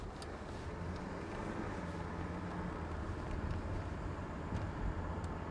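A 1982 Mercedes-Benz 300TD turbo diesel wagon with about 114,840 miles drives on the road, heard from inside the cabin as a steady low engine and road rumble at moderate level, with no talk.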